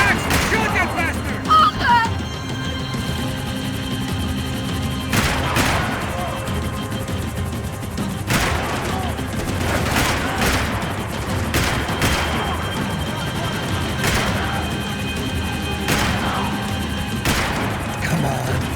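Dense gunfire in the shooter game Max Payne 3, repeated sharp shots and bursts over a noisy action backdrop, steady and loud across the whole stretch.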